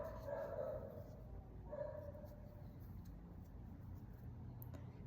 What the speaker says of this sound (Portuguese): Quando a gente grava em casa é isso, cachorro latindo, é a minha cadela.